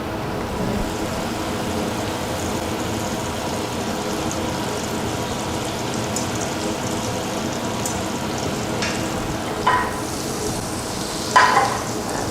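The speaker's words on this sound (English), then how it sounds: "I already know the pan's hot. I'm just going to add a tiny bit more butter" Butter sizzles steadily in a hot pan with a continuous, even crackle, joined near the end by a couple of brief louder scrapes or stirs.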